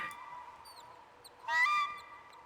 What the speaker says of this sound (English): Birdie, I hear you.